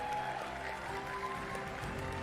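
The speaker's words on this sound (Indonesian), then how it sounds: "Tepuk tangan yang meriah untuk semua pimpinan kita yang baru," An audience at a PSI political party event cheers and claps for its new leadership, a steady, dense wash of applause mixed with crowd voices, loud and continuous throughout.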